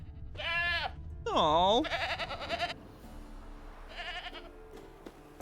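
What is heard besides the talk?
goat bleating, video game The Witcher 3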